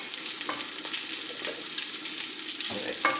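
Bacon, lard and sausage fry over medium heat in a pan, giving a steady broadband crackle with a few sharper pops and spits rising above it.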